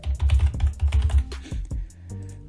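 Quick, close tapping on a computer keyboard while names, a phone number and payment details go in, in dense bursts of keystrokes that slow to a few scattered taps near the end.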